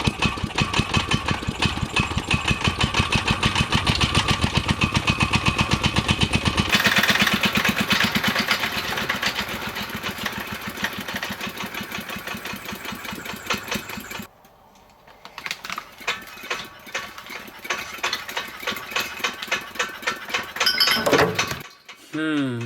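A small four-stroke engine built as a spinning top, running on fuel held in its fuel pipe and carburetor, buzzes at a steady rapid idle, then cuts out briefly before sputtering back up in uneven bursts and stopping.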